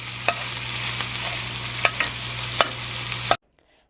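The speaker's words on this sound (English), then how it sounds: "go ahead and mince that turkey meat, small little bites until it's nice and done" Minced turkey meat frying in a pan, a steady close sizzle broken by several sharp spatula scrapes and taps, with no voices, before it cuts off abruptly.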